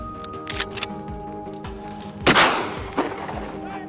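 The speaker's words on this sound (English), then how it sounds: "With a single decisive shot, the wild boar instantly dropped to the ground." A rifle shot fired at a wild boar on a mountainside, one sharp loud crack with a ringing tail, followed by a fainter second report, amid scattered outdoor knocks.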